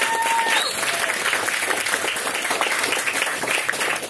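Sustained audience applause at a concert, a dense, even wash of many hands clapping at steady loudness throughout, with faint voices mixed in.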